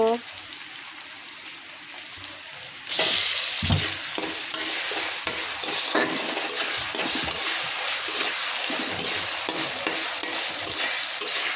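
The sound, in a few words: onions and fish frying and stirred in hot oil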